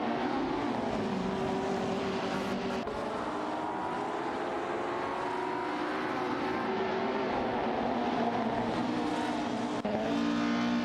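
Race cars in an AI racing video game roar continuously, with layered engine drones and shifting pitch as cars pass, loud and steady throughout with a brief dip near the end and no voices.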